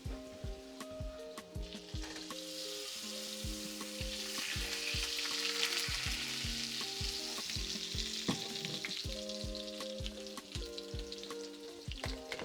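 Butter melts and sizzles in a cast iron skillet while steak and potatoes cook, giving a steady, moderately loud crackle throughout, with scattered sharper pops and light clinks over a faint musical background.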